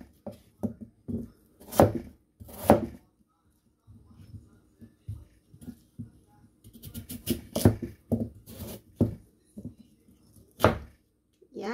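Chicken being hacked with a dull kitchen knife on a board gives a series of irregular, close, heavy thuds in short bursts, separated by pauses.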